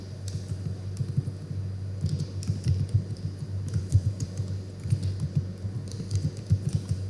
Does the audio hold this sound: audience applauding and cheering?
no